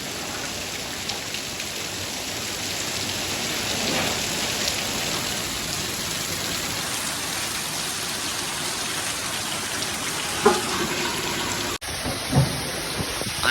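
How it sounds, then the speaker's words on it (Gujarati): Heavy rain pours onto a farm field in a dense, unbroken roar, with a few brief knocks near the end and no speech. "કેવો વરસાદ પડે જોઈ લો"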